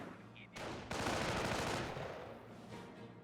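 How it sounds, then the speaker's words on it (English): A sniper rifle fires in Company of Heroes, with a sharp crack and a longer booming report that trails off, amid other battle noise and light talk. "Sniper making another shot up here."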